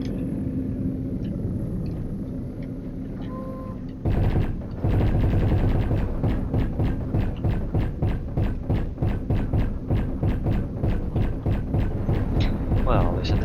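Gunfire in the underwater game Archimedean Dynasty starts abruptly after a low engine hum and continues as a loud, steady stream of rapid repeated shots over a rumbling background.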